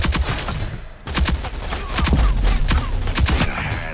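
Video game gunfire rattles out in rapid bursts and single sharp shots, loud and dense across a few seconds, with a brief gap near the start.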